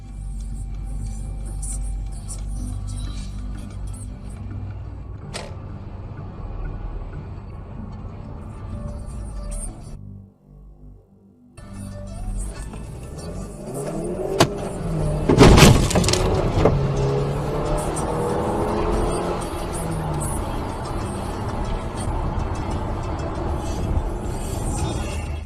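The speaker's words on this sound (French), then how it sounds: "il a rapidement accéléré, endommageant la voiture des malfaiteurs et quittant les lieux" A car accelerates hard and slams into the thieves' car, a loud burst of engine rumble and a sharp impact in the middle, followed by continued driving noise.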